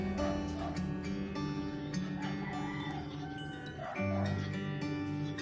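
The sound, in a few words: dog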